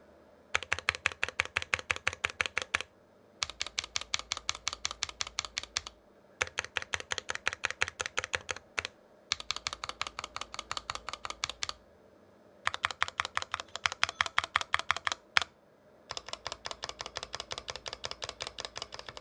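Stabilized keys are typed on an NK65 Entry Edition keyboard with stock Tealio V2 switches: close, crisp rapid bursts of keystrokes in several runs separated by short pauses.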